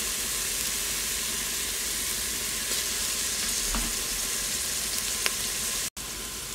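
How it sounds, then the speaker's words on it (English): Tomato paste, onions and garlic fry in olive oil with a continuous, even sizzle, and a few faint stirring scrapes come through near the end. No voice is heard. "We stir it together. We allow the tomato paste, onions, and garlic and olive oil"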